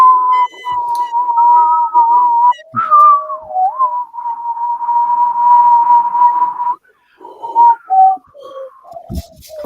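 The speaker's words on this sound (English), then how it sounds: "Can't whistle today." A person attempts to whistle, producing wavering, breathy tones that hold, slide and break off, with short gaps and a few stops and restarts, close and fairly loud.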